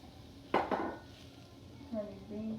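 A spoon clatters against a pot as rice is stirred into vegetables for chicken and yellow rice, with two sharp scraping knocks early on and softer shuffling later, faint and close.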